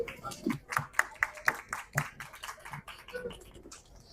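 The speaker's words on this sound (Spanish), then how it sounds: "Un aplauso, por favor." Audience at a book conference for the Arreit saga breaks into scattered clapping, a modest room of hands rather than a roaring crowd, irregular claps lasting several seconds.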